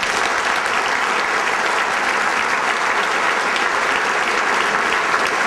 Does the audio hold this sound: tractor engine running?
no